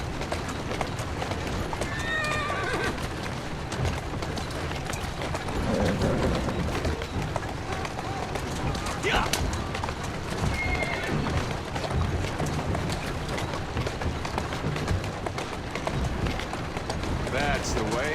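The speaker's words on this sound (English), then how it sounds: "Who's a good horse? You are." Horse neighs and clip-clopping hooves from Assassin's Creed Syndicate gameplay, with a couple of whinnies and steady hoofbeats running under a busy game mix and someone talking throughout.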